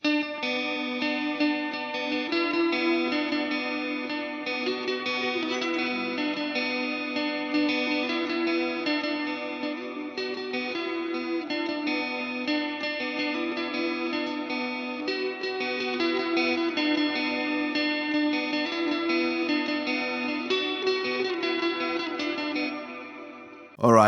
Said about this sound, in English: I'll use the Dispatch Master to get this ambient delay reverb thing.